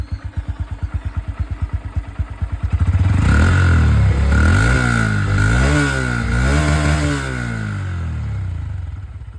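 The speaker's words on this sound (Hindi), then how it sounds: "अब मैं आप लोगों को यहाँ पर हॉर्नेट 125 की जो आवाज़ है वो भी सुना दूँ" A 2025 Honda CB125 Hornet motorcycle engine idles with a steady pulsing putter, then revs up loudly several times in rising and falling sweeps, close by and alone.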